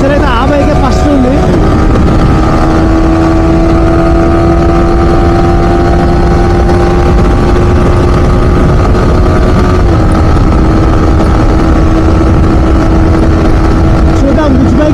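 Yamaha R15 sport motorcycles running side by side in a street drag race, a loud, sustained engine drone with steady whining tones that shift slightly as the bikes pull ahead, with speech heard over it.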